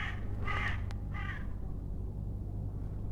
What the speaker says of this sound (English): it's crows right now going crazy